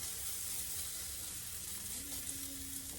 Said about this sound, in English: put 1 pancake in there. I'm just kind of smashing it down.